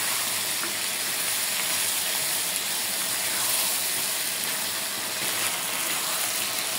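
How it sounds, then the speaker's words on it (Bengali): Taro stolons cooking in hot oil with spices for a Bengali hilsa curry give a steady, even hiss and sizzle that holds for the whole stretch, with no voices over it. "প্রায় 5 মিনিটের মতো একটু তেলের সাথে মশলার সাথে সুন্দরভাবে নাড়াচাড়া করে নিচ্ছি"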